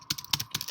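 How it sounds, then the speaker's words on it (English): Fingers tap on a computer keyboard in a short run of crisp, uneven keystrokes, close and distinct, with no voices. "I'm typing"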